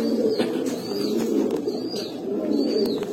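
Pigeons at a pigeon sale coo steadily and close by, a continuous low warbling chorus with occasional higher calls over the top.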